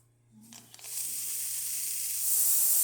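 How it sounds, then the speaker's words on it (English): Steam wand on a Zacconi Riviera espresso machine after a full tune-up opens with a brief low hum, then builds into a loud, steady, strong hiss that grows brighter toward the end. "And then I'll show you the steam."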